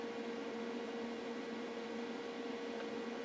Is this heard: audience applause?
no